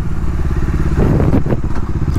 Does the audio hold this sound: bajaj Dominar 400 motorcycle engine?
yes